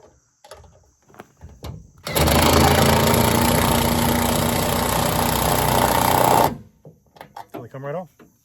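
An impact driver runs loud and close in one continuous rattling burst of about four seconds during a Go Rhino molly panel install. Handling noises and a little talking come before and after.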